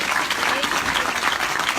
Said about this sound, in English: big round of applause for all the cast.